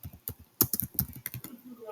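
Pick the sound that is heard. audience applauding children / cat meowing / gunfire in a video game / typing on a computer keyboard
typing on a computer keyboard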